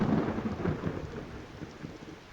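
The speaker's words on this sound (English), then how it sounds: "Do you hear the lightning?" A thunderstorm in the video game Skyrim brings a deep rumble of thunder over steady rain, loudest at first and then slowly fading, with no voices.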